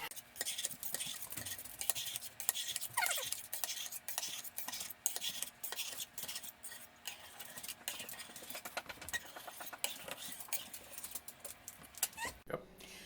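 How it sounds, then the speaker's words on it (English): Knife cutting fresh cheese curds into half-inch pieces in a pot of whey, a steady run of small clicks, taps and scraping strokes, close by and moderately quiet. "you cut the curds into about 1/2-inch"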